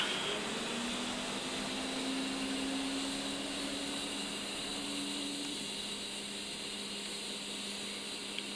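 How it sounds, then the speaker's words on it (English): An A-10C auxiliary power unit spools up in the DCS flight simulator cockpit, a steady broadband whine and rushing hum with a faint tone slowly rising, continuous and fairly close with no talk. "wait for the APU to spool up"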